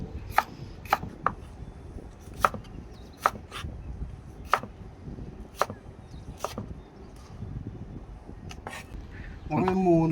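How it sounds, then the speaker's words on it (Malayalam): Sharp knife strikes on a cutting board as capsicum, seeds removed, is diced into small cubes for kuzhi mandhi, about a dozen irregular close chops, then a brief voice at the end. "ക്യാപ്സിക്കം നമുക്കൊരു ക്യൂബായിട്ട് കട്ട് ചെയ്താൽ മതി"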